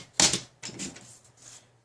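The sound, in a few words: cutting card paper piece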